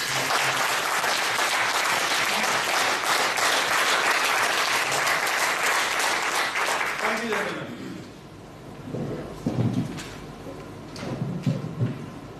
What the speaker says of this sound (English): Give them big round of applause